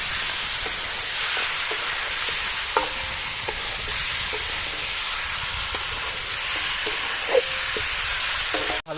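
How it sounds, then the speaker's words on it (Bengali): Chicken pieces for a restaurant-style curry sauté in a pan with a constant loud sizzling hiss, broken by repeated soft scraping knocks of a spoon stirring, close up and without talk. "ভালো করে কষাতে হবে মাংসটা"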